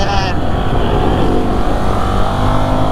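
A Ducati Scrambler Icon motorcycle riding along, its engine a steady, loud drone with wind rush throughout, while a rider talks over it.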